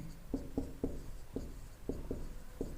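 Pen or chalk strokes writing out a definition of electrical resistance, seven short scratchy taps in an uneven rhythm, close and fairly quiet with no speech.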